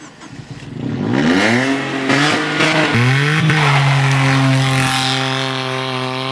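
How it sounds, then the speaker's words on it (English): A race car with a straight-through exhaust and a 1-litre engine fires up inside the cabin, catching with a loud rasp, then blipping and settling into a rough, throbbing idle close by. "Now obviously you can hear the noise of this exhaust in here."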